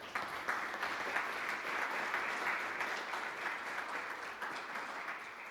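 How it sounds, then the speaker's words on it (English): A room of people applauds at a village meeting marking an RRC certification, giving steady, moderately loud clapping that runs continuously at an even level without voices. "Then can we give them a round of applause?"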